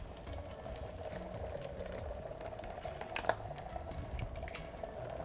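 Dry ice boiling in a sub-zero CPU overclocking cooler pot, a close, steady bubbling fizz with fine crackles and occasional sharper pops, running continuously throughout.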